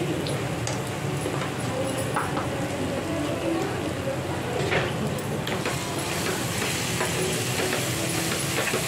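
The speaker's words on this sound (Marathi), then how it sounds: "फोडणी चांगली करून घ्यायची." Spice tempering with salt and turmeric sizzles in hot oil in a pan for batata vada, a steady crackling hiss that runs continuously and fairly close throughout, with faint stirring and no clear speech.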